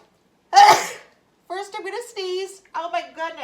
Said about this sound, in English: First, I'm going to sneeze.